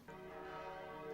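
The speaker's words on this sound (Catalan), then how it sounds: "vaig sentir el repicar de les campanes" Church bells peal at noon, a sustained, steady ringing with rich, layered tones that holds evenly from just after the start to the end, with no voices.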